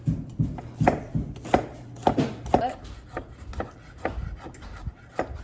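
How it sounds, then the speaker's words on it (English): A knife chops garlic on a cutting board in a home kitchen while a healthy lunch is prepared, giving a steady run of close, sharp thuds and clicks with brief scraping rubs between strikes and no talking. "we're just chopping up this garlic"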